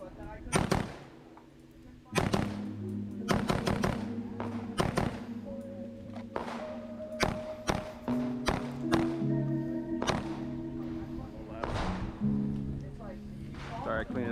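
Gunshots crack at an outdoor shooting range, probably from an AK rifle build, as a dozen or more loud, sharp reports come in irregular clusters, each with a short ringing tail and quieter gaps between them.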